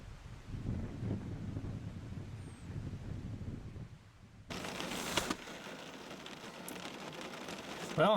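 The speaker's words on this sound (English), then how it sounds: "these clouds have definitely opened up and started dropping a considerable amount of rain on us" Heavy rain pours down outdoors, a dense steady hiss with wind buffeting the microphone, growing broader and louder partway through as the downpour strengthens; no one speaks.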